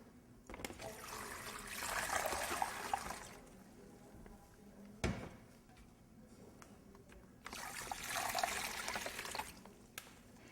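Ice cold water pours into a bag of cider turkey brine with spices and herbs, in two splashing bursts separated by a quieter pause with small knocks and handling noises.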